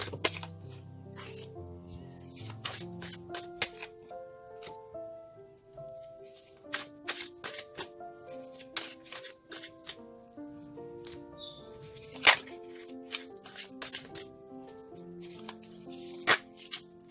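Hand shuffling of a deck during a tarot-style card reading: scattered bursts of crisp snapping and flicking clicks, close and fairly soft, recurring throughout over a quiet bed of sustained background music.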